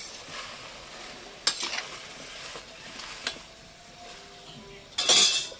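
Food being mixed in a pot during a home cooking session, with soft scraping and a few sharp metallic clinks of a utensil against the vessel, a louder clatter near the end, faint frying hiss beneath.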